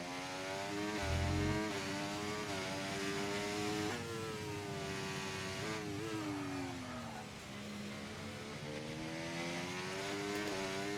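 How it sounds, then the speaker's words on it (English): Race car engines scream steadily in a sim racing game, with one high-pitched engine holding and shifting pitch through gear changes and a brief low thump early on. "Listening to the cars is very satisfying, to be fair."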